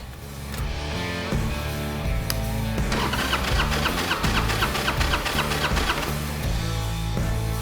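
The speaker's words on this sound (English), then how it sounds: "You want to crank it till this needle stops moving." A Harley-Davidson Sportster engine cranks over steadily on its starter during a compression test, making a rhythmic, chugging whir that runs loud and close for several seconds without firing, and no one speaks over it.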